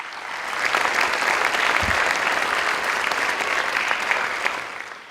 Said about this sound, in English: So let's please have a round of applause for Congressman Rogers.